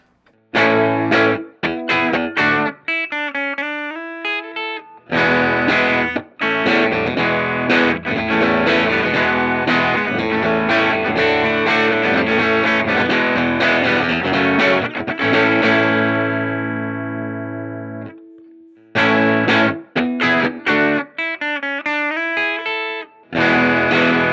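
Electric guitar through a Benson Germanium Boost pedal with a slightly gritty boosted tone, playing chopped chords and riffs, then a long sustained chord ringing out before a few more stabs.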